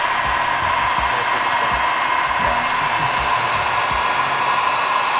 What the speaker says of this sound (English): now we're gonna go grab our heat gun real quick